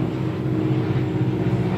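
A helicopter spraying pesticides for mosquito control gives a steady, droning low rumble overhead that holds without a break throughout.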